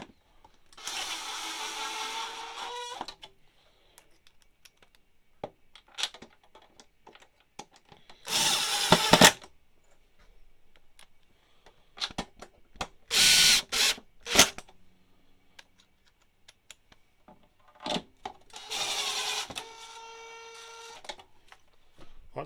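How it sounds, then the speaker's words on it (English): Bursts of a power drill screwing down the corners of a base plate for a Dometic dust reduction system on a van. The whirring runs repeat with quiet gaps and small clicks of handling between them. "So we're just going to screw each corner in now."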